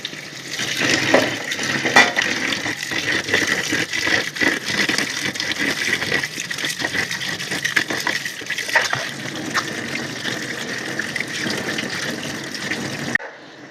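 Potatoes being washed by hand in a perforated plate, with continuous running and splashing water and clinking handling noises throughout, steady and close, with no talking.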